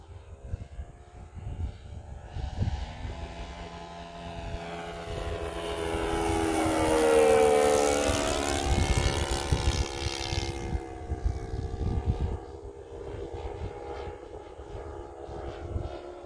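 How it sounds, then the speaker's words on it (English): A radio-controlled Great Planes JU-87 Stuka warbird with a four-stroke engine makes a flyby, its propeller drone swelling as it passes close and then falling in pitch as it moves away. "there's something about the sound of a four-stroke and a warbird"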